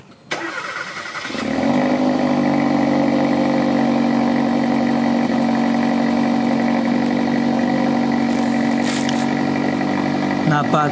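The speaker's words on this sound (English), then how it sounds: "I'll give you guys the stock exhaust sounds." A Hyundai Elantra GT N Line with its stock exhaust starts up and settles into a steady, even idle, a close and continuous low engine hum with a brief rise at the start.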